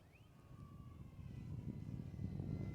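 An E-Flite Ultimate 3D biplane, a 950mm RC aircraft, flying: a faint, high electric motor whine sweeping in pitch above outdoor wind rumble that grows louder toward the end.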